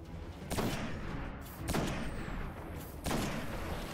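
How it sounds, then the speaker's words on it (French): Gunfire aimed at the player in the shooter Destiny, three heavy bursts of shots with rumbling tails spaced about a second apart, over a steady background roar, no talking. "c'est qui qui me tire dessus là en fait"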